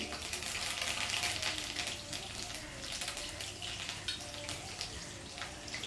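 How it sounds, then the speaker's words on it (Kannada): Chopped onion, green chillies and curry leaves fry in oil for a hotel-style potato saagu, a steady loud sizzle with crackling running the whole time and no voices. "ಇದನ್ನೆಲ್ಲ ಚೆನ್ನಾಗಿ ಫ್ರೈ ಮಾಡ್ಕೊಳ್ಳಿ."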